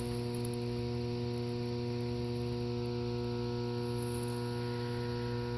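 Pond aeration air compressor running with its outlet valves partly closed, a steady loud electrical hum with strong tonal drone and faint hiss, no change audible over the stretch.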